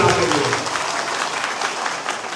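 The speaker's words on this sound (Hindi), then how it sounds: "जरा ताली तो बजाइए हमारे त्रिपुरा के लिए" An audience at a BJP Tripura SC Morcha conference in Pratapgarh claps loudly and steadily, a dense sustained round of applause filling the hall.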